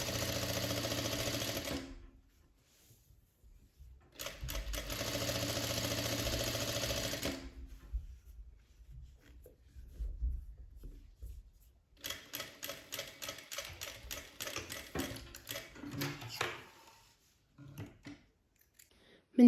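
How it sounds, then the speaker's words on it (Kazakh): A sewing machine stitches turban fabric with right sides joined, running in three separate bursts of fast mechanical whirring, the last one more clattery, with quiet pauses between them. "Осылай оң бетін бір-біріне қосып отырып тігеміз."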